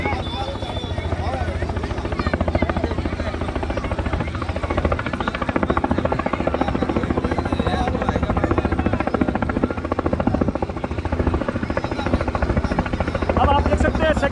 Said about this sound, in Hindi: अब आप देख सकते हैं सेकेंड टाइम हेलीकॉप्टर लैंड कर रहा है